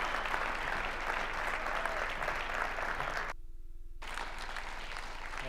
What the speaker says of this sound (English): let's keep the applause going for our amazing presenters of session 2